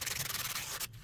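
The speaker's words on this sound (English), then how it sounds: "Then I gave it a good sanding" Sandpaper rubs over a carved piece of scrap wood in a quick, rhythmic back-and-forth scratching, close and fairly quiet, stopping just before the end.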